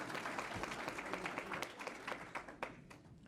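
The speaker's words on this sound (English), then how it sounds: "Now, group applause." Scattered applause from a small group at a full county board meeting, steady light clapping at moderate distance that tapers off toward the end.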